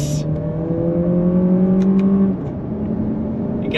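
Engine note of a 2023 Lexus RX 500h F Sport accelerating in sport mode, a loud steady drone climbing in pitch for a few seconds, then briefly easing before settling at a lower hum.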